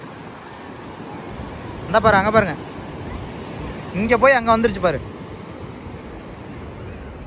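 Flowing water rushes steadily at a grape farm in Thekkady, a constant wash of noise throughout, while a person talks over it in two short bursts.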